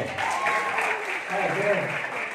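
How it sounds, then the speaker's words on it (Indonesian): Clapping from an audience at a navy outreach event in Dumai, a brief steady burst of hands under a lively hall ambience, with voices murmuring through it. "Kasih tepuk tangan."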